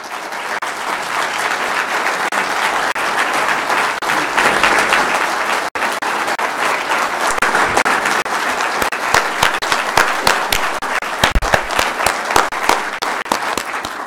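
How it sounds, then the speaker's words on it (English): Sustained, dense applause from a large audience honoring law enforcement officers at a county swearing-in ceremony, steady clapping filling the room for the whole stretch with no talking over it. "They deserve a huge applause and thanks."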